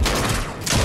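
Gunfire in the video game Squad Smashers comes as a dense, loud burst of rapid shots, filling the whole brief moment with a short dip in the middle.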